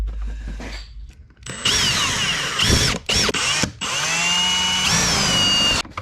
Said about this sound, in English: there's my 2 spots where I'm going to drill